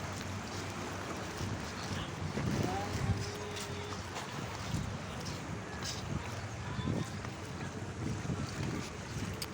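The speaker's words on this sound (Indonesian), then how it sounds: "Jadi itu ada kapal" A boat motors on the sea near Untung Jawa island, a low rumble under wind buffeting the microphone, with waves and a voice talking over it.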